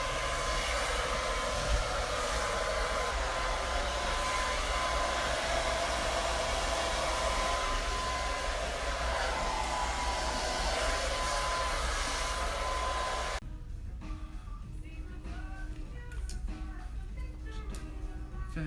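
Hair dryer blowing during professional hair styling, a constant loud rushing whoosh that cuts off abruptly near the end, leaving quieter room sound.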